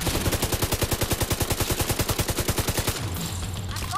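Sustained automatic gunfire in The Division 2: a fast, regular stream of loud, close shots for about three seconds, then the firing stops and leaves a quieter game backdrop.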